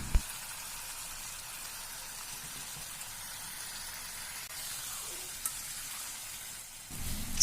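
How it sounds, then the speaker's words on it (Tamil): Chicken gravy sizzles in a hot pan with frying chicken, a steady, moderately loud hiss with a couple of small clicks and stirring knocks near the end. "அதுலேருந்து 4 கரண்டி குழம்பு ஊற்றிக்கோங்க."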